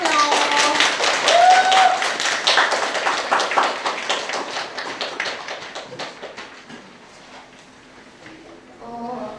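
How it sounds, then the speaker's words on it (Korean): Students in an academy lecture hall clap to welcome a senior speaker at a special admissions talk, dense rhythmic applause that stays loud at first, then thins and fades out, with a brief voice returning at the end. "자, 박수로 모실게요."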